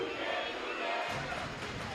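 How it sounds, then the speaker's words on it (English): A crowd cheers and roars in a high school basketball gym, a broad steady wash of voices that swells louder partway through, with talk mixed in. "You can hear the crowd."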